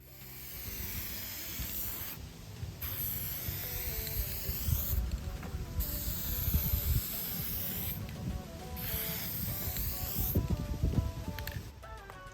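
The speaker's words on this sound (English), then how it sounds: "we'll hold it 8 to 10 inches out, do a nice even spray" Repeated bursts of clear coat spray from an aerosol can onto a Ford F150 rear bumper, hissing in several even passes with short pauses between, close up over a low background rumble.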